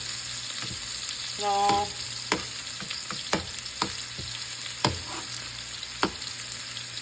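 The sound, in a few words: sizzling as food is flipped in a frying pan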